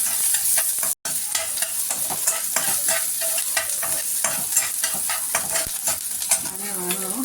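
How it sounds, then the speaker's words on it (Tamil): Onions sautéing in a pan with spluttering mustard seeds and urad dal for podi idli, heard as a steady sizzle with frequent rhythmic scrapes of a ladle and one brief dropout. "அப்புறம் ஆனியன் போட்டுக்கலாம். ஆனியன் வதங்கட்டும்."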